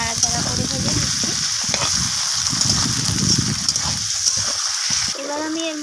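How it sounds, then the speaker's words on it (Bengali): Onions fry with a catla fish head in a pan as they are stirred, giving a loud, close sizzle with scraping and splattering, and a voice faintly underneath near the end. "তো আমি পেঁয়াজটাকে মাছের মাথার সাথে এভাবে মিশিয়ে নাড়াচাড়া করে ভেজে নিচ্ছি।"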